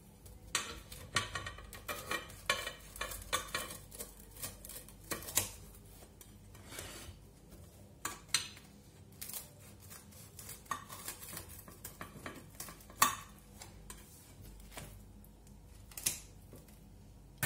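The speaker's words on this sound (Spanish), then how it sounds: "vamos a cortar un trocito para que veáis que realmente está hecha" A knife cuts through a thin-crust homemade pizza cooked in a frying pan, making a long run of sharp ticks, scrapes and metallic clicks against the pan at an uneven, close pace.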